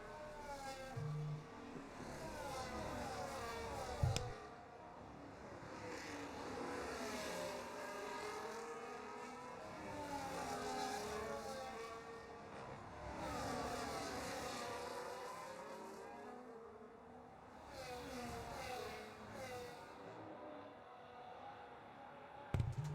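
Formula 1 race cars in a sim racing game at Zandvoort, engines screaming and rising in pitch through gears as several cars pass in waves, continuous and fairly loud with occasional sharp clicks.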